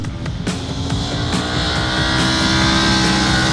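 A 2020 Ducati Streetfighter V4 motorcycle engine roars loudly and steadily, its sound building slightly toward the end, with a few sharp clicks near the start.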